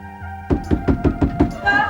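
Several firm knocks on a door in a Hindi TV serial scene, coming in an even rhythm of about six loud, close raps over a faint tonal background.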